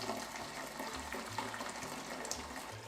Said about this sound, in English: Add 11 cups of water.